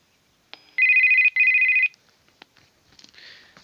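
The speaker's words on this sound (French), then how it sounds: "sonner comme un téléphone." A Puxing PX-777 UHF 400-480 MHz handheld radio rings like a telephone on a selective call: two loud, steady electronic ring bursts close by, followed by soft clicks and faint rustling.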